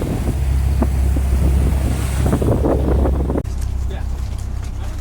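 Strong wind roars across the microphone on a fishing boat at sea off Kuala Besut, Terengganu, with waves washing around the hull; the gusting buffets stay loud and continuous, and voices are heard faintly beneath.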